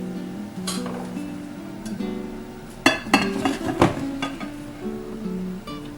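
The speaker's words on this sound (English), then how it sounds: "Now I'm going to slowly incorporate my flour mixture to my butter mixture." Flour mixture is stirred into butter mixture in a bowl for snickerdoodle cookie dough, with scattered clinks and light knocks of utensil against bowl over a soft background, close and fairly quiet.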